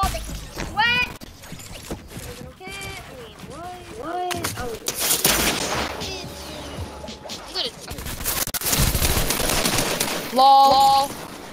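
Gunfire in the Fortnite Desert Zone Wars mode, bursts of rapid shots and impacts scattered between excited voices talking and yelling over the game.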